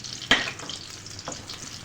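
Garlic fries until brown for achari chicken macaroni, a soft close sizzle broken by two sharp stirring scrapes, the first louder than the second.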